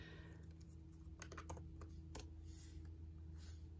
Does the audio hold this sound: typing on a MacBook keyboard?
yes